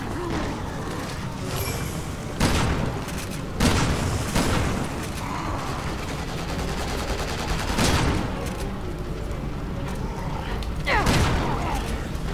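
A police officer fires in Resident Evil 6: scattered loud gunshots and booms recur across the span over a dense game soundscape, with voices talking at times.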